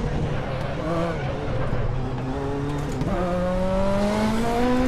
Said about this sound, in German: man hört auch so ein Reverb, wenn man an der Zielgeraden vorbeifährt, weil da rechts diese Mauer ist